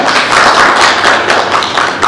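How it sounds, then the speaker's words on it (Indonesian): Students in a biology classroom clap loudly together after a group presentation, a close, dense burst of handclaps that carries on evenly for about two seconds. "Kasih tepuk tangan dulu yang luar biasa"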